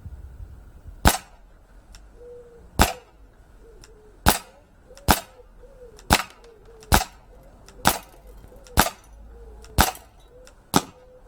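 Ten sharp BB pistol shots from an Umarex Beretta 92 Elite 2 fired at a target, loud and close, spaced about a second apart with faint metallic target hits between them.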